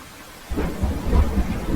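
Heavy rain pouring in a jungle with a deep rumble of thunder rolling in, loud and close, no voices.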